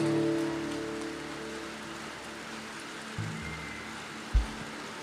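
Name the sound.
rain falling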